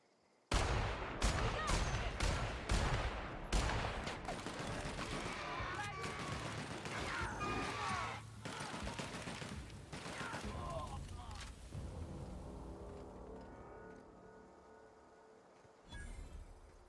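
Gunfire in the video game The Outer Worlds: a burst of loud sharp shots and impacts up front, dense and repeated, then fading into quieter game ambience, with a voice talking alongside.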